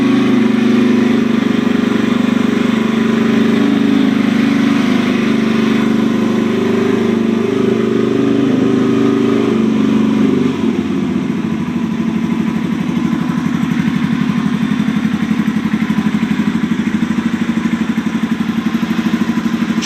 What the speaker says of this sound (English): Choke is off. It's on an idle.